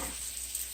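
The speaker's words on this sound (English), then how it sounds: "I'm sauteing those delicious zucchinis with that juice from the" Zucchini sautéing in a pan with juice from bueno beef, giving a faint, steady sizzle with soft hissing and a few small ticks, near and alone without voices.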